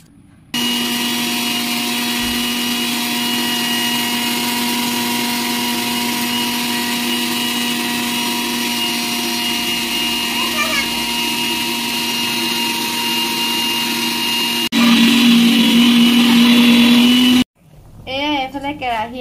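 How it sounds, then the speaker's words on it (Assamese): An electric mixer grinder runs steadily on dried rice, a loud continuous whine with a droning hum that rises in pitch briefly near the end before cutting off abruptly. "ভালকে ফৰফৰীয়াকৈ শুকালেহে মোৰ মিক্সিত ভালকে গুৰি হ'ব"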